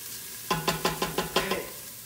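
Garlic hits a hot pan during soup-making for cheesy broccoli soup, stirred in a quick run of six or seven rhythmic scrapes and sizzling bursts, close and clear over a quiet background.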